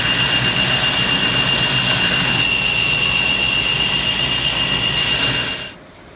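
A grinder runs loud and steady as it grinds clean a canister Damascus steel billet, its whine holding throughout before dropping off and cutting out near the end.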